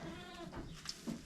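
Sheep bleat softly inside a barn shared with goats and pigs, a few short faint calls at low level with no talk.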